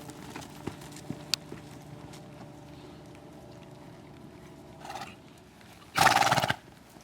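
Horses in a riding lesson slow to a walk. There are a few faint hoof thuds, then one brief, louder burst of noise near the end, with no talk.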